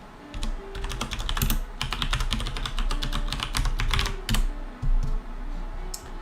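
Fingers clatter rapidly on a computer keyboard, typing chat during an online game session. The clicks come in dense bursts with short pauses and are close and clear.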